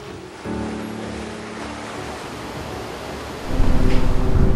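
Ship noise picked up underwater by an ocean hydrophone: a low, droning vessel hum with tonal bands, turning into a louder, rushing churn near the end.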